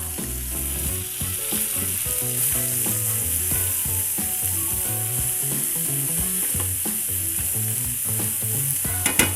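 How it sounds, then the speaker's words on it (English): Small yellow onions fry in a pan with a dense, even sizzle and crackle that continues for several seconds. No voices are heard. "when the onions are rendering down like that, it's a good time to go ahead and salt"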